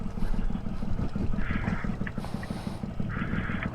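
A Honda Shadow Bobber motorcycle engine runs steadily throughout at moderate level, a continuous low rumble with a few brief mechanical ticks over it.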